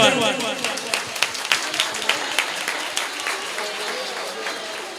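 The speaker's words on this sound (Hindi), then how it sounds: "ताली बजा दो एक बार" Audience at a Jain children's education camp closing ceremony claps in a brief burst, with distinct individual claps that thin out and fade as the applause winds down, voices mixed in.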